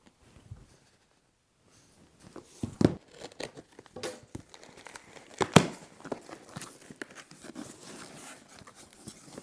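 Red duct tape torn and peeled off a mail-order package of hiking gear, with crinkling and ripping bursts close by that grow busier after a quiet start, one sharp rip standing out midway.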